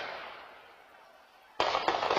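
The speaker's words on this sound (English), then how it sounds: "And the sounds of gunfire captured on that doorbell camera." Gunfire picked up by a home doorbell camera during a Sunday-morning shooting: a faint fading burst, a short lull, then two sharp loud reports close together near the end.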